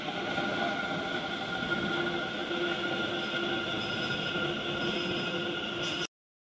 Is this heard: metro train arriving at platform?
yes